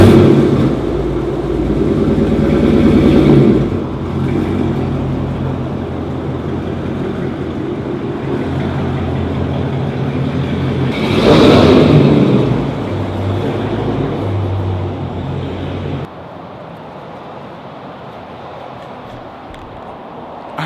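A Dodge SRT car engine idling and revving on a city street, swelling into loud throaty revs early on and again midway, then dropping to a lower steady idle.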